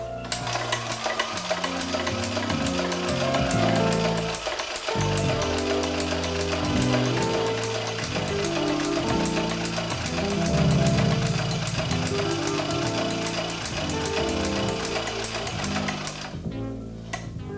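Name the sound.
Hague linker machine linking knitted stitches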